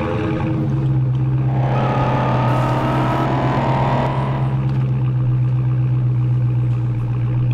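Dodge Hellcat engine in a racing video game, a loud continuous low drone that swells and revs through the middle of the clip before settling back to a steady rumble.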